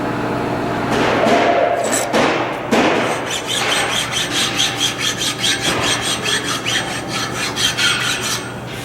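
Hand file rasping burrs off a driveshaft U-joint yoke: a few uneven scrapes, then a steady run of rhythmic back-and-forth strokes, loud and close, with no talking.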